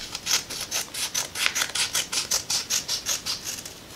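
Scissors cut kinesiology tape into strips with a quick, even run of about a dozen crisp snipping rasps, close and fairly quiet, with no voices.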